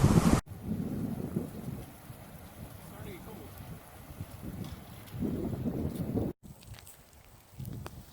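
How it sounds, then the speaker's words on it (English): A mountain thunderstorm with rain and a little hail on a hike in the Wind River Range, low rumbling swells and wind noise against the microphone, fairly faint and continuous. "we get a thunderstorm with a little bit of hail"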